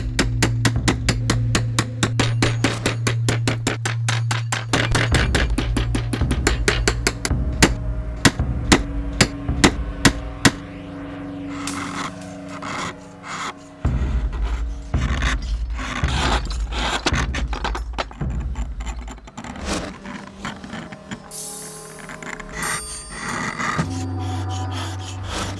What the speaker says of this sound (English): A chisel and shovel will be used to trim the shape of the inkstone.